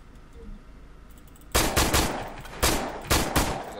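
Gunfire in the video game Arma III DayZ Exile: after a quiet stretch, loud rapid bursts of shots ring out near and sharp, coming in several clustered volleys.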